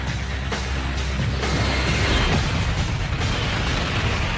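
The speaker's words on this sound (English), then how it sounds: "The KLM smashes into the American Jumbo at 290 kilometers per hour." A jumbo jet collision crash sound effect, evoking a KLM airliner striking an American jumbo at 290 km/h, delivers a loud, sustained roaring rumble of crashing noise with heavy low-end weight and no pauses.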